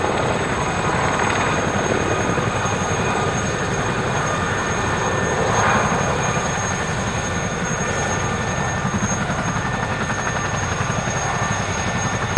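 Three Gazelle helicopters lift off together at an airshow, their rotors and turbines producing a steady, loud whirring drone with a constant high engine whine, sustained without a break.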